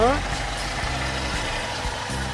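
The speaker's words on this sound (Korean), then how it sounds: "디젤 엔진 아주 잘 관리가 되어 있는" Steady low diesel engine idle of a Hyundai Grand Starex 12-seat van with about 80,000 km, rumbling at close range, with someone talking over it throughout.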